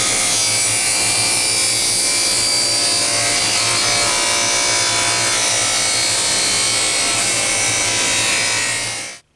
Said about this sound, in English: We now place our board on the table saw, and we set up our fence so that we're going to cut right on the 1/2 inch mark that we made.